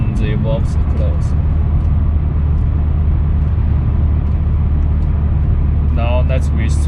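Car fitted with an Armytrix valvetronic exhaust and 034 Motorsport racing catalyst, valves closed, gives a steady, subdued low drone heard from inside the cabin, with brief voices near the start and end.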